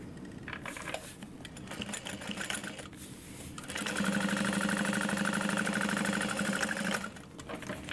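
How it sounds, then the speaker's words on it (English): A sewing machine runs in bursts, then settles into a long steady whirring stretch while top stitching the exterior of a fabric tote bag, the motor hum close and even before stopping. "And you're top stitching on the exterior."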